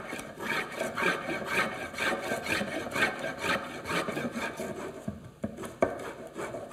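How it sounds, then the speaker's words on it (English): Steel spokeshave blade on its coarse setting shaving wood, a steady series of rhythmic rasping strokes at close range, ending in a few sharper scrapes and knocks. "So I'm going to stay on that side of the spokeshave."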